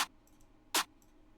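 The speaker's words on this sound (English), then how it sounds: "This is the sound that I used for the snare." A snare drum sample for a trap beat hits twice, sharp and bright with a short noisy decay, the second hit louder, over a quiet background.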